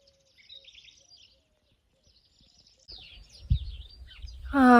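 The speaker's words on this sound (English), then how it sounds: "the lovely sound of birds" Small birds chirping and twittering around a spring homestead in Portugal, faint scattered calls in a quiet setting, followed by some handling noise and a closer louder sound at the end.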